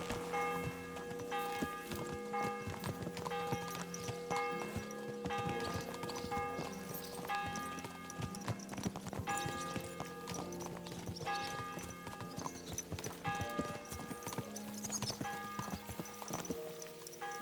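Several horses' hooves clip-clop steadily and densely while riding in Kingdom Come: Deliverance 2. The hoofbeats overlap continuously, with faint bell-like ringing behind them and no talking.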